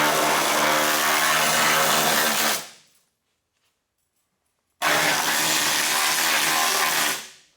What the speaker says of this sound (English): Taking all the loose stuff off with the needler.